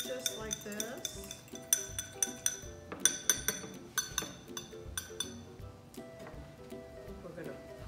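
A utensil stirs and clinks against a bowl as a separated egg is mixed with cold water, making light, rapid, close taps and scrapes while a person talks.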